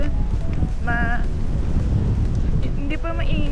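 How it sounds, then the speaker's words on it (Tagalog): Strong wind buffets the microphone on a beach in Boracay, a constant loud rushing roar throughout, with a voice speaking briefly over it. "Hangin guys dito. Sobrang hangin."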